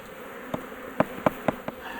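Honey bees being moved into a hive box during a rescue give off a steady close buzzing hum, with several soft knocks and bumps from the box scattered through it.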